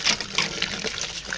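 Water gushes steadily from a newly installed tap, a continuous splashing flow heard close and fairly loud without voices.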